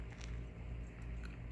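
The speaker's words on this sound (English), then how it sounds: "All my dogs like chewing on the figs" Close, wet biting and chewing as a dog works at a dried fig, with soft squishy crunches and small clicks repeating over a low background rumble.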